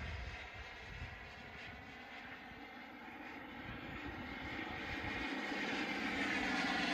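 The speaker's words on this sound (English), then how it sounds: "Another flyby. Flyby. Right at us." A Freewing T-45 turbine RC jet makes a flyby outdoors with a broad, rushing turbine roar that builds steadily louder as it approaches, with no speech over it.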